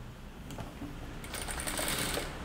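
A sewing machine stitches the edge of a fused neckline, making a faint, quiet whirring with soft clicks that grows slightly busier toward the end.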